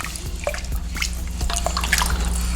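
Rice and water being stirred in an Instant Pot, giving soft watery sloshes and light drips with scattered clinks of the spoon against the pot, fairly quiet and close, with no talking.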